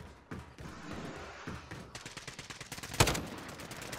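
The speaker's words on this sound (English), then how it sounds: "Gunfire." Bursts of gunfire crackle in a Warzone game match, several rapid shots and a sharp louder blast near the end, fairly close and unaccompanied by talk.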